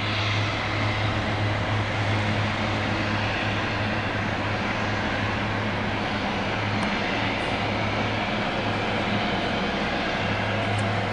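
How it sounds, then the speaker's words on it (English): An airplane engine roars at full throttle for takeoff. The loud droning hum is steady and unbroken throughout, with a strong low tone under broadband noise. "Putting the throttle all the way in for takeoff."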